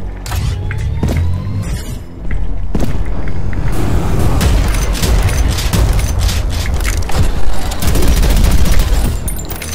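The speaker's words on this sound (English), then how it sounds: "use the magic flames from the charged shotgun shot" A charged shotgun fires magic flames in the shooter Prodeus, with loud booming blasts followed by sustained roaring, crackling fire and repeated impacts, and no talking.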